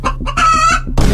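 A rooster crows in an anime scene, one loud drawn-out cock-a-doodle-doo heard alone and close, ending in a burst of noise.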